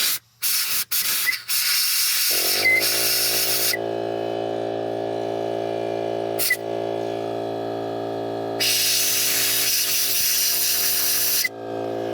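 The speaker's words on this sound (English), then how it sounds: "we'll just take our air blower and blow the aluminum chips out of there" An air blower clears aluminum chips from a freshly drilled hole in a Subaru Forester engine during a stripped timing belt idler pulley thread repair, giving sustained loud hissing bursts with brief pauses between blasts.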